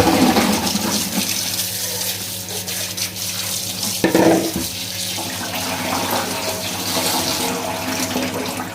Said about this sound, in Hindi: तो एक दफ़ा फिर आपने इसे खुले पानी में धो लेना अच्छी तरह।